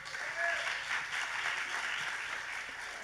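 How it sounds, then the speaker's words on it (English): Applause from an audience at a startup demo day, acknowledging interns and volunteers, a steady broadband patter of clapping at moderate distance with a brief whistle or cheer near the start, continuing evenly for a few seconds. "I think they deserve a round of applause too."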